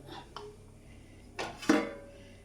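An aluminium pan is set on a metal ring inside a pot that serves as an oven. A few light clinks and scrapes are followed by two louder metallic clanks of the pan settling, close and clear.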